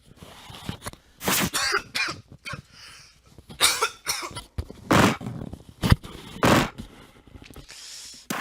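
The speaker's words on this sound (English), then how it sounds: "this cough has been the bane of my existence all summer and all fall" Repeated harsh coughs in uneven bursts, close and loud, with brief throat noises between them and no talking.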